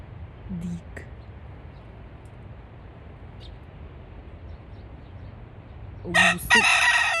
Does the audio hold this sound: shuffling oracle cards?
no